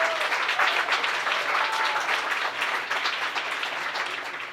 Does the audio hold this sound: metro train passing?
no